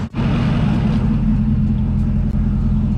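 A car engine idles high at roughly 2,000 RPM in a steady, loud, unbroken rumble that holds constant for several seconds after a brief dip at the start.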